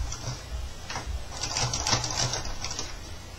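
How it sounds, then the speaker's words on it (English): A sewing machine stitches binding along the edge of a quilt with a quick, even mechanical chatter, running fairly close and steady at moderate volume with no speech. "And now I'm going to stitch all the way down the next side of my quilt."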